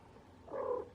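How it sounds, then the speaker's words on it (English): A cat purring close by, a short soft rumbling burst rising about halfway through a quiet one-second stretch, alone with no talk. "That's like, oh, it's purring."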